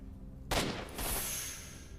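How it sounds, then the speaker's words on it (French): Gunfire in the video game STALKER: Shadow of Chernobyl, a sudden sharp shot or burst followed by a second booming crack and a long ringing decay, close and loud against a quiet background. "Ça dessoude dans tous les sens."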